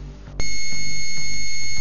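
A 555 IC oscillator circuit switches on after a brief quiet moment and gives a loud, steady, unchanging electronic tone that holds at the same pitch until the end.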